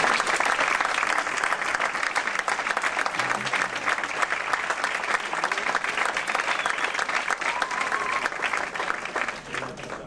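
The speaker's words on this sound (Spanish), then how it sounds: "le pido un aplauso para el doctor." Dense, steady applause from an audience welcoming a doctor to a neurology lecture on ADHD, loud and sustained across the whole stretch and tapering slightly at the end.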